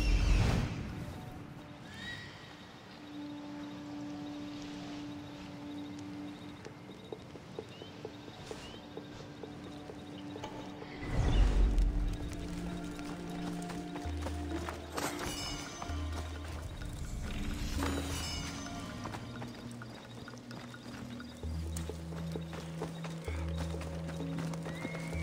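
A horse in Assassin's Creed Odyssey whinnies and clip-clops along, with rhythmic hoofbeats, a loud whinny partway through, and game music and effects underneath.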